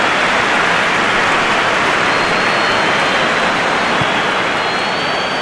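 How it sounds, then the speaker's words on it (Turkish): A stadium crowd in the eFootball game applauding a goalkeeper's save, a loud, dense, steady wash of clapping and crowd noise that stays even through the whole stretch. "Tribünler kaleciyi de bu şık kurtarışa alkışlıyor."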